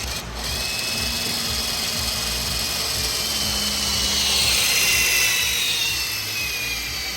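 A Hytorc Centerlock pneumatic torque tool whirs continuously at close range, a loud sustained mechanical whine whose pitch rises and falls as it cycles through its tighten, loosen and tighten sequence, with no voices.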